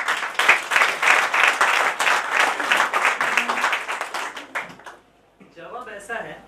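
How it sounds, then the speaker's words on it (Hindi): Loud, dense applause from an audience at a Hindi motivational talk about going from middle class to millionaire, fading out near the end; after a brief gap, a voice starts speaking. "इनके लिए एक जोरदार ताली।"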